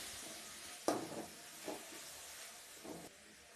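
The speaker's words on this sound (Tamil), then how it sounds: "நல்லா வதக்கி விடுங்க." Finely chopped tomatoes sauté in oil, a faint sizzle broken by a few short scraping stirs of a spatula, quiet and close.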